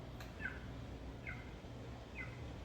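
A quail calls three times at even intervals, each call a short, bright two-part note, fairly faint over quiet outdoor desert background hiss.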